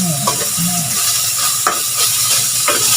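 Dried fish from Silinog Island sizzles steadily in a frying pan, a close, continuous crackle with occasional sharper pops and brief stirring scrapes.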